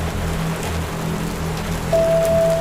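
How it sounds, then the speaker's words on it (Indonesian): Steady rain falls in an even wash, with a sustained tone joining partway through as the downpour continues. "berharap hujan berhenti"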